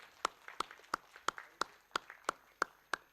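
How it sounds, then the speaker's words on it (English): A single person claps slowly and evenly at a university human rights debate event, about nine crisp claps spaced roughly a third of a second apart, fairly close and isolated with little else around them. "So, big round of applause for the team."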